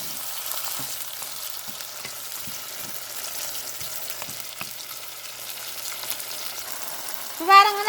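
Tomatoes frying with salt in a pan for a fish curry kulambu, a continuous gentle sizzle with regular soft scraping stir strokes, ending in a brief louder clatter, with no speech.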